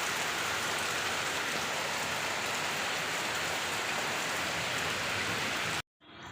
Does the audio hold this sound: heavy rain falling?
yes